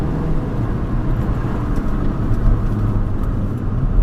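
Engine of a 2014 Mercedes CLA AMG heard from inside the car while downshifting with the paddles, a loud, steady low rumble with road noise throughout.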